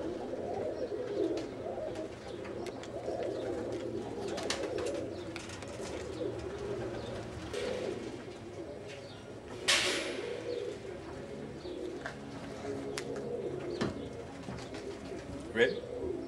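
Young pigeons in a loft coo in a low, steady murmur throughout, with occasional wing flaps and small knocks, faint speech mixed in among the birds.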